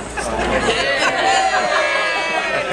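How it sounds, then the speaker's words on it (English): A lively crowd chatters and laughs in a busy room, a steady close babble of overlapping voices with a snicker now and then. "Lively crowd over there."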